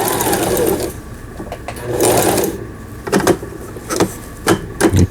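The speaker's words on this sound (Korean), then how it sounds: "지그잭 바느질을 할 때는 이 부분을 5까지 놓으면은 5mm가 나오니까 넓게 나오죠." A Brother GS2700 sewing machine runs zigzag stitching at a wide 5 mm setting, its motor whirring in steady bursts interrupted by short pauses and light mechanical clicks, close and fairly loud.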